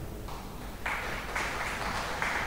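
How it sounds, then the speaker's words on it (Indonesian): A short burst of clapping from a group at a halal bihalal gathering, rising in a couple of waves, fairly loud and steady with no voices on top. "Tepuk tangan buat beliau."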